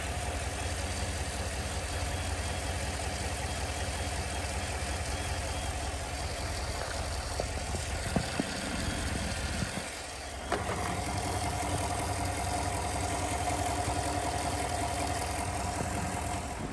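A 2014 GMC/Chevy full-size truck engine idles steadily after starting, a continuous low rumble with a few faint clicks and a brief dip midway.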